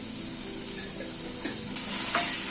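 Drumstick and potato with salt and turmeric fry in a pan, giving a continuous close sizzle that swells slightly toward the end, punctuated by a few soft stirring scrapes.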